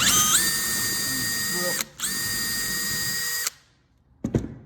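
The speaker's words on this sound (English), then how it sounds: "we have to drill out this old pop rivet" A power drill whines at high speed drilling out an old pop rivet on a screen door latch, briefly dips, whines again, then stops, followed by a couple of short clicks.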